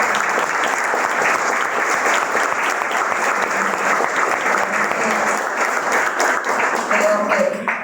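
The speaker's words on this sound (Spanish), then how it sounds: "quiero que le demos un aplauso al licenciado Stales y a la licenciada Rosy" An audience in a law-school notary class claps for two licenciados, with dense sustained applause filling the room throughout and a faint voice near the end.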